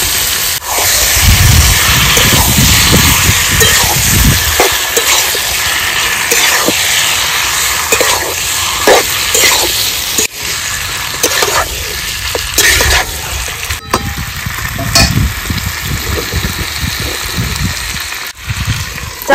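Marinated chicken hits hot spiced masala in a pan for a chicken curry, setting off a loud, steady sizzle and hiss that fills the whole stretch with no voices.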